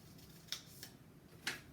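Scissors snip a piece of black material into skinny diamond shapes, giving two or three faint, crisp close-up cuts over quiet background hiss.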